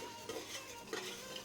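Spices are stirred and dry-roasted in a pan on a low flame for a fish curry, giving soft, faint scraping and rustling in a few gentle strokes with no talking.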